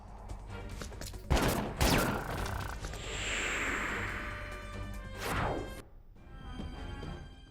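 Gunshots blasting wooden boxes and crates in Disaster: Day of Crisis, a few sharp cracks followed by splintering crashes, a swooshing rush and another smashing hit, loud and close.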